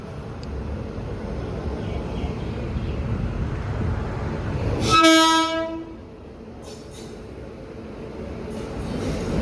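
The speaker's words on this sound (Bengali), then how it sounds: "এখন এই যে দেখো ট্রেন ঢুকছে মাত্র" A train pulls into a station platform with a loud rumbling roar, then sounds a sharp, strong horn blast in the middle before the clatter eases to a lower steady rolling noise.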